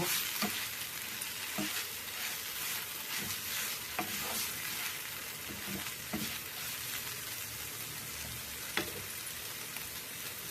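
Beetroot stir-fry sizzling in a pan while being stirred, a constant soft crackling hiss with repeated light scraping strokes of a spoon every second or so, close but fairly quiet, no voices.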